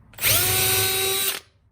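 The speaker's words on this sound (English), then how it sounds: "Then we're going to come back with the drill at a 45-degree angle" A power drill bores through a wooden framing board at a 45-degree angle during van wall and ceiling framing. It makes one loud, close, steady whir lasting about a second before cutting off.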